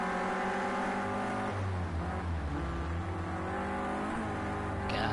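A Clio Cup race car's engine is heard onboard during a race, a loud, close, continuous drone whose pitch rises and falls with gear changes and throttle over a few seconds.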